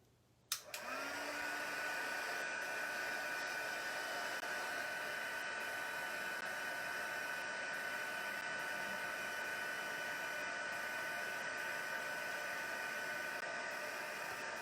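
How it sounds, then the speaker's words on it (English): A heat tool for embossing blows hot air on a Christmas card with gold detail, switching on with a click and then holding a steady, loud broadband whoosh close by for the rest of the time, with no talking. "I am going to turn back on the heat tool"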